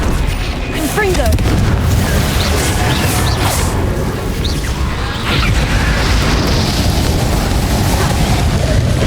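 Blasting-spell explosions in the Hogwarts Legacy video game, heavy booming bursts over a dense rumbling battle soundscape with mechanical clatter, loud and continuous.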